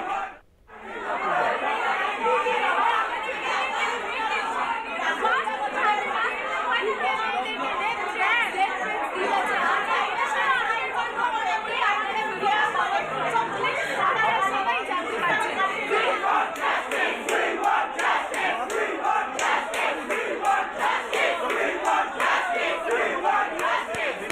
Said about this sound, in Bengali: উই ওয়ান্ট জাস্টিস স্লোগান তুলে পড়ুয়ারা বিক্ষোভ দেখাচ্ছেন